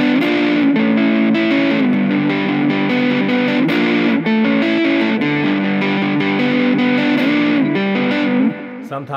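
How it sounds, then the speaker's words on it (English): A distorted electric guitar plays a sustained, gritty riff, with steady chords and short melodic runs, loud and continuous with no voices. "Uses distortion on it."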